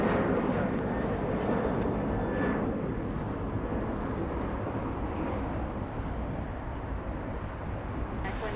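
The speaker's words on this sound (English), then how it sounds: "the C-130 right now flying alongside the 405 northbound" A C-130 military transport aircraft flies near Los Angeles alongside the 405 freeway, giving a steady, continuous broadband engine roar throughout that stays fairly loud and unbroken, with no talking.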